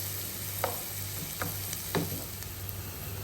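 Chopped onion and garlic sautéing in a pan for beef lasagna, a steady soft sizzle under a low hum, with three distinct spatula scrapes spaced about a second apart, close and alone.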